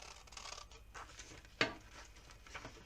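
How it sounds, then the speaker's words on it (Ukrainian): Scissors cutting out a paper appliqué sketch, quiet snipping and rubbing with one sharper cut, close and faint with no talking. "беру ножиці, вирізаю, вирізаю"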